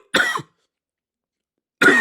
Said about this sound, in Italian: e quindi cominciamo dalla tosse